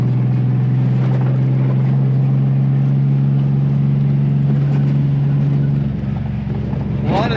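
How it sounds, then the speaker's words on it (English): Prerunner trucks rattle and shudder over desert washboard chatter bumps on the Mojave Road, a steady low engine drone with continuous cabin vibration, loud and close throughout. "A lot of the rattling that you're hearing in here, like right there, is coming from chatter bumps"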